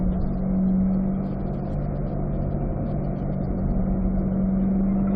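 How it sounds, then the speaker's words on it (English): Race car on a track in a steady, loud engine drone with a sustained low tone, heard from inside while braking and downshifting to third gear; no talking. "Turn brake, downshift to 3rd in a straight line."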